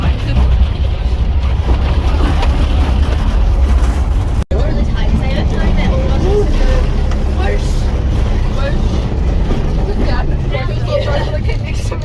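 A Hagglund amphibious vehicle grinds steadily along an off-road track, its engine a constant loud rumble with rattling and bumps throughout and a brief dropout partway, while people talk over the noise inside.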